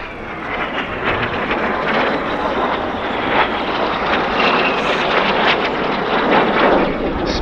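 Red Arrows jet aircraft flying a display at the RAF Cosford Airshow, a loud, continuous broadband engine roar that holds steady throughout with no talk over it.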